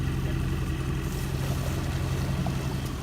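Idling outboard engine of a small fishing boat on a salmon river, a steady low hum with a constant drone and no speech over it.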